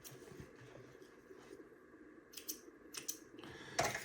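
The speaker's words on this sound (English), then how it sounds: "My little scissors, cut off the excess." Small scissors snip off excess ribbon on a shark's gill fedora hat, a few quiet close clicks and cuts, with the sharpest snip near the end.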